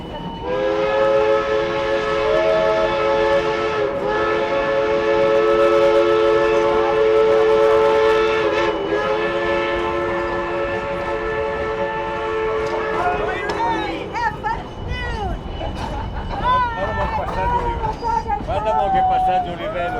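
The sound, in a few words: Durango & Silverton narrow gauge train pulling out of station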